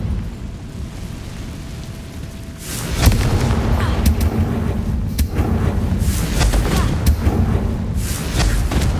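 A Confringo fire spell bursts in Hogwarts Legacy, a loud blast at about three seconds opening into a sustained roaring, crackling rumble with further sharp impacts, set inside a dark haunted shop in Hogsmeade.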